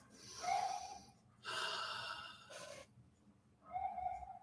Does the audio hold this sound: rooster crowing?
no